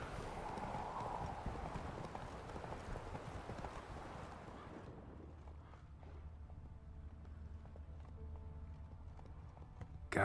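Horse hooves clip-clop in the Witcher 3 video game, a steady rhythmic trotting under ambient game sound that thins into a quieter, sparser background partway through.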